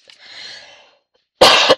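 A woman coughs twice: a faint, breathy hack followed after a pause by a sharp, loud, explosive cough close to the microphone.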